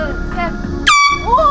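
A yacht's horn on the Han River, Korea, lets out one loud, harsh blast close by, cutting in sharply after a moment of quiet, with voices just before and after it.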